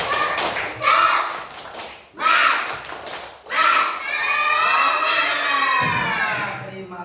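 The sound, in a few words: children doing the rhythmic 'tepuk semangat' clapping chant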